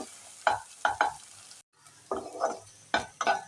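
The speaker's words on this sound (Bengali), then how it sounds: "ডিমটা খুব তাড়াতাড়ি এইভাবে ভাজতে হবে।" An egg fries in a pan for Chinese-style pasta, with several sharp scraping stirs of a utensil against the pan over a soft, steady sizzle, and a brief quiet gap midway.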